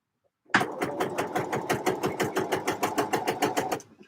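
Sewing machine running long lines of top stitching on knit fabric, a fast, even rhythm of needle strokes starting abruptly and continuing steadily, close and alone.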